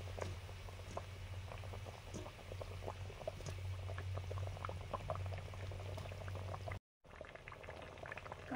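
Fish curry gravy bubbling in a pot, a dense, fairly quiet stream of small pops and gurgles with a low steady hum underneath, briefly cutting out near the end.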